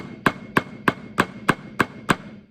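Seven crisp, evenly spaced drum flam strokes, each a soft grace note falling just before the main hit, sound close and dry in a steady rhythm.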